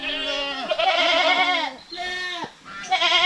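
Several goats bleat loudly and close by on a farm, including a blackhead goat, their wavering cries overlapping in quick succession with a brief pause between calls.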